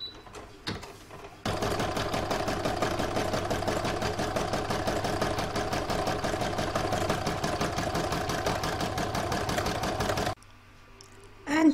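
A domestic sewing machine runs steadily for about nine seconds, stitching the quilting round on a fabric seashell catch-all, with a fast even mechanical chatter that starts and stops abruptly, close and loud.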